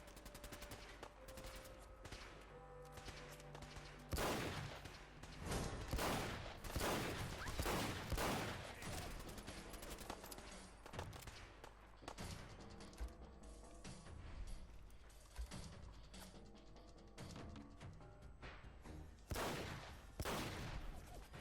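Heavy gunfire from a big weapon in the video game Fallout 4, with rapid bursts of loud shots repeating through a dense, crashing game soundscape with no clear talk.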